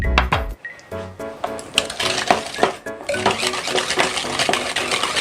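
Brownie batter being mixed in a bowl as an egg is worked in, with repeated close clinks and scrapes of a whisk against the bowl in an irregular rhythm, no talking.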